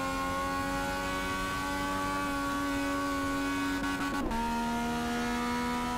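Car engine in GTA San Andreas droning steadily, then a quick gear shift drops the pitch near the end, constant and moderately loud with no talk.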